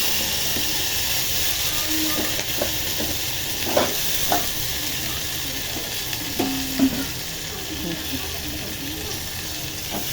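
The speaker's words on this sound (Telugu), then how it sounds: "నేనైతే జీలకర్ర, ఆవాలు వేసాను. తాలింపు పెడుతున్నాను." Cumin and mustard seeds sizzling in hot oil for tempering, a constant crackling hiss close by, with occasional faint clinks and stirring noises.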